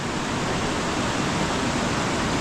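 Rushing floodwater from heavy rain roars down from the mountain in a dense, unbroken wash of noise, loud and close throughout.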